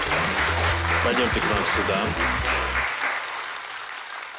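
A studio audience on a Russian game show applauds in a continuous clapping wash that fades toward the end, while a host talks over it early on.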